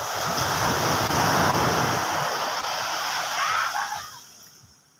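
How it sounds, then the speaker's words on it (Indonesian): Gentle small surf washes in on the beach at Pangandaran, Indonesia, with a broad rushing hiss, then recedes and fades toward quiet at the end. "Ombaknya pun kecil di sini."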